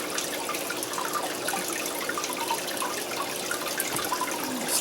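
A pump drives aquarium water in a strong, steady rush and splash into a rolling trash can during a water change, a loud continuous gushing that holds level throughout.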